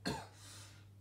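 One short, sharp cough from a man eating chocolate biscuits, close but soft, followed by quiet breathing and room noise.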